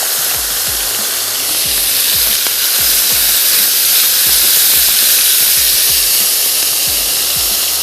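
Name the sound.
chicken with sauces sizzling on a hot grill pan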